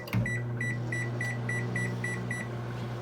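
A microwave oven set to pop popcorn in a silicone popper bowl gives a run of about eight evenly spaced short electronic beeps, close and clear over a faint steady hum.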